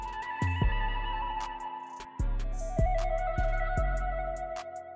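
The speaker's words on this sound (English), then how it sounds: "So my new flute trill sounds something like this." A flute trill synth preset from Omnisphere, pitched down to B, plays warbling sustained tones over deep 808 bass hits and sparse percussion ticks, clean and dry.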